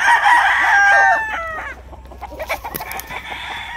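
Roosters at a game farm in Tanauan City, Batangas crow loudly and close by. One long crow is followed by clucking and scattered calls from other fowl.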